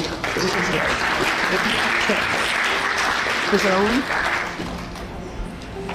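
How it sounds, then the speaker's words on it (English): Applause from a crowd at a mobile home industry event with exhibitor booths. It is steady and fairly loud for about six seconds, with voices talking over it throughout. "All right, round of applause"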